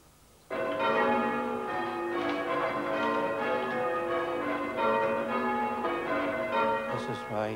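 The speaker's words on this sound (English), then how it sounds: "That's a bell ringing." A church bell peals at Steeple Langford in the Wylye Valley, struck by a team of bell ringers. The tolling starts suddenly and then rings on steadily and fairly loud, its overlapping strikes filling the air.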